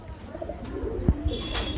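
Pigeons kept for sale at a market coo, low throaty calls rising a few times over steady crowd and background noise, with a faint chirp near the end.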